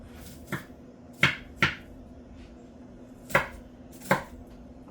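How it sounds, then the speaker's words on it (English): A knife cuts meat and peppers into small slices for a Philly cheese steak, with five sharp, separate thuds on a board spaced irregularly apart and quiet in between. "I'm just gonna cut little slices, more slices."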